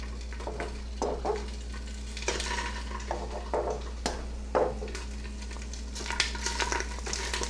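Sausages sizzling as they brown in a pan before going into spaghetti sauce, a steady hiss and spatter close by, broken by scattered clacks and scrapes of a utensil against the pan, no voices.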